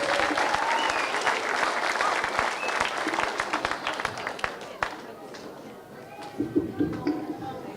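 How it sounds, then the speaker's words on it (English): An audience at a community millennium concert gives a hearty round of applause, thick clapping that thins and fades toward the end as a few voices murmur in the crowd. "Give them another big round of applause"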